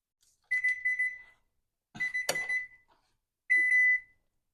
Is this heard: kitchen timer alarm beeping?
yes